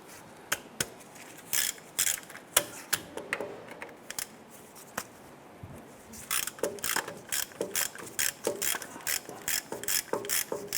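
A ratchet with a 16mm socket loosens axle bracket bolts on a Nissan Versa, giving loud, close bursts of rapid clicking in repeated strokes with short pauses between.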